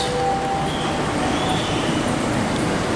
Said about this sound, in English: the train is almost here